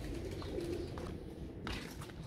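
Soft, low pigeon coos murmur through a dense, noisy background, faint and close together over a couple of seconds.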